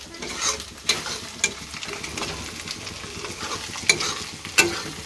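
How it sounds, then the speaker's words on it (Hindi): Tomatoes dropped onto fried onions in a pan for a paneer curry, sizzling steadily with sharp scrapes and clinks of stirring, close and fairly loud, with no talking. "और अब हम इसमें डालेंगे पहले टमाटर।"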